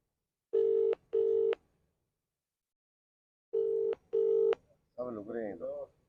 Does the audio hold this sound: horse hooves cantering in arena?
no